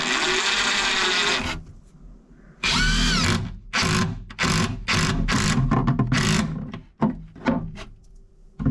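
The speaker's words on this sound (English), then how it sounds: "it's time to put some screws into that and that to hold it on the wall" A power drill drives cabinet screws into wall studs while mounting a Lego cabinet, with a long whirring run followed by several short loud bursts and pauses, close by and without talk.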